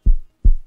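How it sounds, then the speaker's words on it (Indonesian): Pounding heartbeat sound effect with two heavy, deep thumps about a third of a second apart, loud and isolated against silence. "Jantungnya tiba-tiba saja deg-degan."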